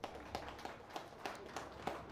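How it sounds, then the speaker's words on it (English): Audience applause at a workers' day celebration, heard as a quiet, distant patter of clapping with regular soft claps standing out over a low background. "Give yourself another round of applause"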